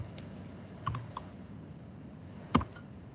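Keys on a computer keyboard tapped while entering a Hive command, a few light close clicks scattered over a quiet background, with one sharper keystroke near the end.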